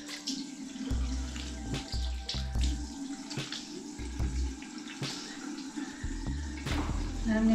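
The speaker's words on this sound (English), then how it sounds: "So, I'm gonna wash my face." A bathroom tap runs steadily into a sink while someone washes their face, with splashing and gurgling water close by and intermittent low thumps as hands move through the stream.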